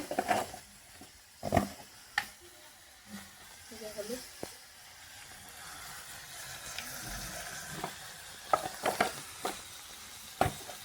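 Ginger, garlic and spices fry in a pan for a broiler chicken neck and liver dish, making a quiet sizzle broken by several loud knocks and scrapes of a stirring spoon.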